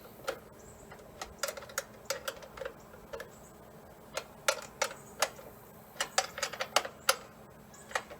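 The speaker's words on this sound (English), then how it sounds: "Half-inch wrench will cinch this up nicely." A half-inch wrench tightening a hydraulic fitting on a Kubota tractor remote hydraulic kit, producing a series of irregular sharp metallic clicks and ticks, close and fairly quiet, with no talking.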